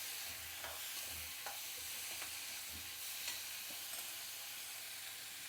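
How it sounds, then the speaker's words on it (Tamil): Tomatoes sauté with rock salt in a pan, making a steady close sizzle and frying hiss throughout, with soft stirring scrapes and taps of a spoon against the pan and no voices. "கல்லுப்பு போட்டு வதக்கிறேன்."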